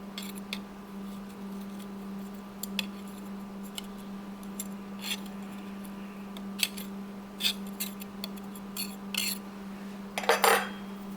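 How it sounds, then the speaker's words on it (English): A knife scraping and tapping against a metal pastry cutter to clear out butter for a cobbler crust, scattered sharp clinks and scrapes at close range over a steady electrical hum. "You have to get a knife after it to get it out of the nooks and crannies"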